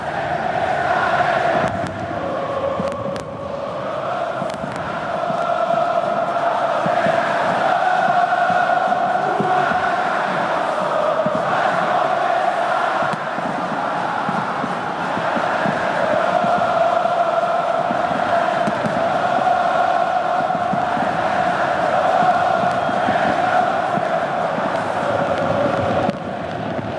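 A huge crowd of Flamengo fans cheers and chants at Maracanã stadium as the teams walk out under a giant mosaic before a Libertadores match, a loud sustained roar with sung tones throughout.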